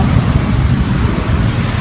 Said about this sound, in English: Can they even hear you with all the cars?